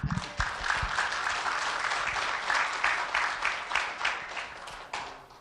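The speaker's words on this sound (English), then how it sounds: "can I get a round of applause for them?" A church congregation applauds with dense, sustained clapping that fills the room. It stays steady and fairly loud, then tapers slightly at the end.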